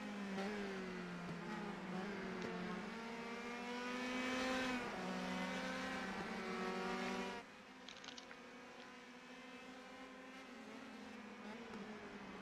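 Race cars in a sim racing game at Watkins Glen, engines droning loudly with shifting pitch as one driver locks up under braking; the engine note drops abruptly partway through, leaving quieter running noise.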